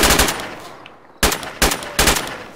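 Machine gun fire in ArmA 3 during a large-scale co-op battle: an opening burst, a pause, then three sharp, loud bursts in quick succession, close and punchy.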